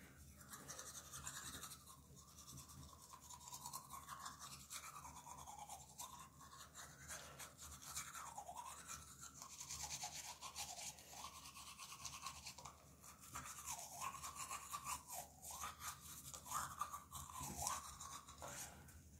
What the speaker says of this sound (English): Let's get brushing.